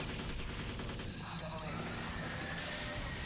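Sustained gunfire from a first-person shooter video game, a continuous loud rattle of shots lasting several seconds, with a voice faintly underneath.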